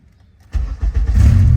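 A drag race car engine starts up: after a short near-silent pause, the engine cranks and catches with a loud, close, low rumble that swells into a rough idle.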